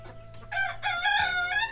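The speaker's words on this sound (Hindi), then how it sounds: "ये नीचे मुर्गा है इसका।" A rooster crows once at close range, a short rising call following a brief cluck, loud and alone.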